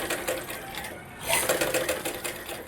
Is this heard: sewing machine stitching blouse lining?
yes